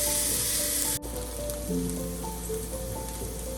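Sliced onion frying in a pan, a dense continuous sizzle that drops in level partway through and continues softer with a few faint clinks.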